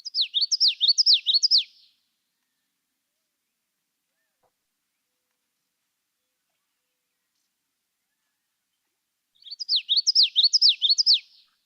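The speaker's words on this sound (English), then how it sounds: "Hard to mistake that for any other bird. Witchity, witchity, witchity, witchity. The common yellowthroat." A common yellowthroat sings its witchity song, a fast repeated run of bright, rhythmic phrases, heard twice as clear separate bursts with silence in between.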